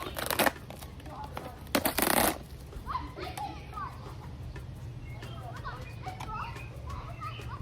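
Children play in a neighbouring backyard, their faint distant chatter and shouts scattered through the background, with louder close rustling and handling noises near the start.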